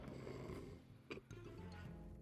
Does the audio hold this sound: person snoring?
yes